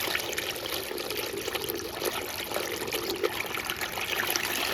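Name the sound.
submerged brushless water circulation pump running in bucket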